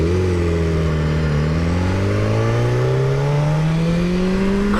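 A 2012 BMW S1000RR motorcycle engine revs in a parking lot, its loud, steady drone climbing smoothly in pitch through one long, continuous rev.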